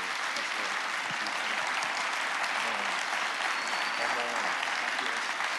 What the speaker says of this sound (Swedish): ge Jesus en riktig applåd